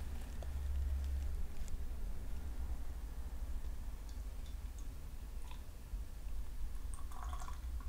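Cara Pils beer pours from a can in a soft, continuous liquid trickle with small drips and faint fizzing ticks, heard close and low over a steady background, without speech.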